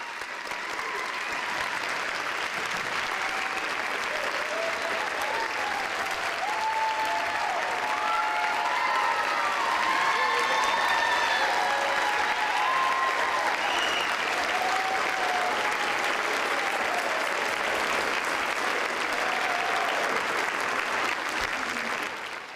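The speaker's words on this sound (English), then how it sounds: "Let's give another round of applause to the 2026 Teachers of the Year from Canyon Schools and Programs." A large school district audience applauds its Teachers of the Year with sustained, loud, even clapping that lasts more than twenty seconds, steady throughout with a few faint voices mixed in.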